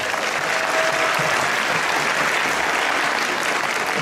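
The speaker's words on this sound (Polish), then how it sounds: "Wielkie brawa." Audience applauds a school headmistress at a Christmas carol concert in a primary school. The clapping is loud, dense and steady throughout, with no talk over it.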